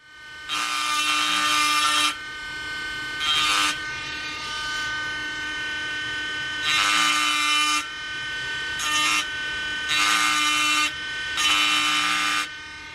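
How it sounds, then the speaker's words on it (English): A Dremel Stylo Plus rotary tool engraves glass in close, loud high-pitched whining bursts of one to two seconds, alternating with quieter idling stretches in an uneven on-off rhythm. "this is how the Dremel sounds like in real life, in real time as well"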